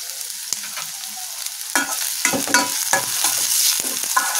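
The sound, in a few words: vegetable fried rice stir-frying on high flame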